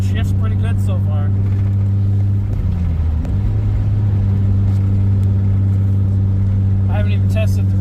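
Engine of a 1995 Toyota Camry LE V6 wagon humming steadily while driving, with a low drone that dips briefly as the transmission shifts, and a voice speaking faintly over it at the start and end.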